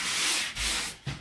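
A sanding screen scrubs dried spackle on drywall with brisk, close abrasive strokes, about three rasping passes in just over a second.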